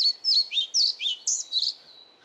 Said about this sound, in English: Pied flycatchers are temperate rainforest specialists